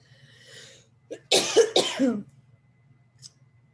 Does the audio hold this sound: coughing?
yes